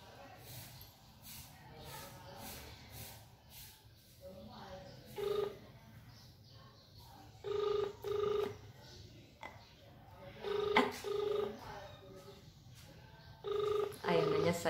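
Ringback tone of an outgoing phone call placed back to a scammer, repeating in short tonal bursts with pauses between them, under background voices and room noise.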